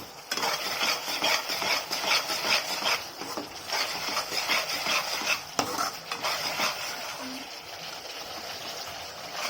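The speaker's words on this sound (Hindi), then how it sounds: "इसे अच्छी तरह से फ्राई होने दीजिए" Masala and sauce fry in a pan for chicken Manchurian while a spoon stirs it: a steady, dense sizzle runs throughout, with scraping and clinking strokes against the pan and no speech.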